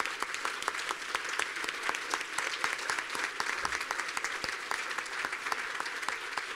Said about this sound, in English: We would like to acknowledge you with a round of applause.